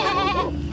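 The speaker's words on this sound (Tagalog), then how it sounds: "Ang ingay-ingay ho ng mga alaga naming manok, aso at kambing doon sa likod ng bahay namin ni Maria." Goats kept behind a house alongside chickens and dogs bleat loudly and close by in a short, wavering cry, with other farm animal noise mixed in and no talking.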